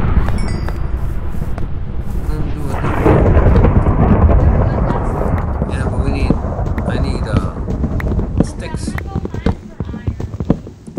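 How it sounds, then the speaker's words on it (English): In the video game Minecraft, a loud thunderstorm rumbles as a long rolling thunder crash over steady rain, swelling midway and then fading, with a person talking briefly over it. "Yes, there's a storm coming."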